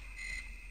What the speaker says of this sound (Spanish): los grillos se oyen clarito